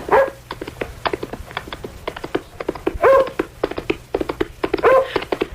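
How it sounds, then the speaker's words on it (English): A dog barks in repeated short, sharp bursts with yips and whimpering cries, close and loud over about five seconds, as a sound effect in a radio mystery drama. "First the dog"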